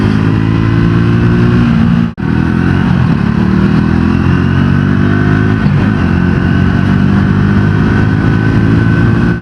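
A Triumph Tracker 400 motorcycle ridden hard and fast, its engine droning loud and close with rising and falling revs, a brief cut in power around two seconds, and no voices.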